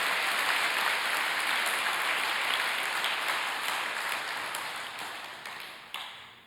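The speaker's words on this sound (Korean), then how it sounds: "우리 다시 한번 큰 감사의 박수를 올려주시기를 바랍니다" Sustained audience applause at a Korean prayer gathering, dense clapping that fills the hall and slowly fades toward the end.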